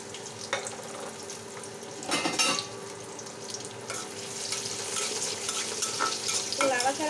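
Chopped onion and green chili hit hot oil in a pan with a bright, continuous sizzle and frying hiss, a few louder bursts and scraping stirs rising over the steady crackle.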